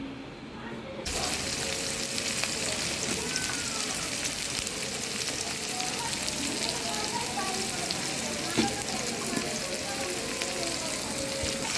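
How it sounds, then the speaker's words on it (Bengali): Garlic, green chillies, onion, tomato and vegetables frying in a pan for homemade fried rice: a quiet opening second, then a loud, steady, continuous sizzle that lasts to the end. "হালকা ভাজলেই হবে, তাই তো?"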